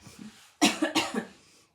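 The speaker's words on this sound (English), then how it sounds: "still got a cough" During a stretching class, an adult gives a short, close cough of two or three harsh bursts, preceded by a quiet throat sound.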